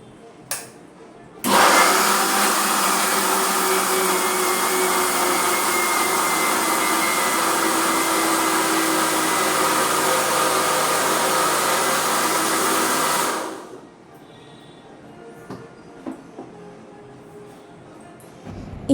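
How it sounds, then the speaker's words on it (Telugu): A kitchen mixer grinder runs steadily for about twelve seconds, grinding soaked moong dal with a loud, dense whirring roar that starts abruptly and cuts off, followed by faint clatter and quiet room noise. "ఇంకా పెసలు అయితే మిక్సీలో వేసేస్తాను ఇప్పుడు."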